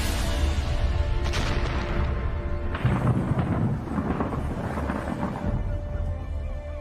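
A thunderstorm with heavy, torrential rain: a continuous downpour under deep rolling thunder, with two louder rumbling surges that rise and fade over several seconds, no voices.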